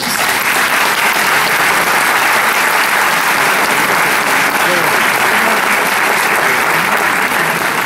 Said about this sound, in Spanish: les pido un fuerte voto de aplausos